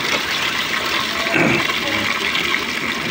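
Water gushes steadily from an opened tap during hand laundry, a loud, continuous, even rush that never pauses and carries no talk.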